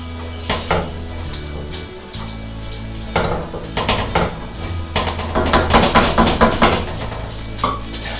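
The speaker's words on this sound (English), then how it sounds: "Let's just give that another stir." A spoon stirs tomato sauce in a metal pan, giving repeated clinks and scrapes that come in irregular bunches. The strokes grow quicker and louder in the middle, over a steady low hum.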